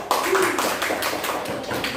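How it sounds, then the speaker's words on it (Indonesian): Schoolchildren clapping in a classroom, a burst of quick, uneven hand claps from a small group, mixed with children's voices. "Tepuk tangan buat kelompok gerabah, estetik dan gagah"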